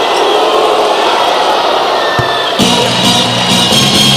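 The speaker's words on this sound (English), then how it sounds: "Crowd has found somebody they want to pick on." A loud basketball arena crowd at an international goodwill game between the Philippines and Australia, a dense wall of roaring and jeering voices that swells sharply partway through and keeps going without pause.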